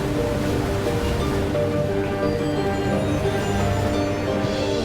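Beach surf in a bird video game, a steady, full wash of waves rolling on without pause or break, loud and close with no voices over it.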